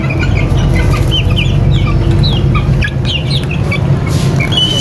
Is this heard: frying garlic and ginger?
no